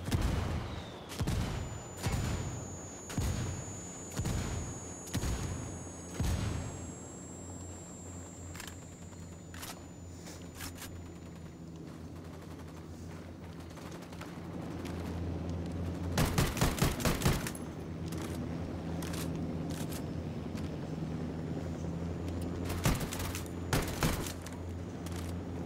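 Mortar fire in Ghost Recon Wildlands: a regular series of heavy booming impacts opens the scene, followed by a steady engine rumble and later clusters of sharp blasts and gunfire.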